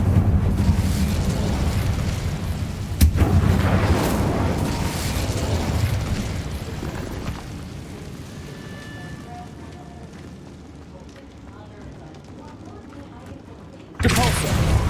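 Fire spell cast in Hogwarts Legacy, a loud roaring blast with a sharp pop near the three-second mark, fading into a softer crackling burn before another burst cuts in near the end.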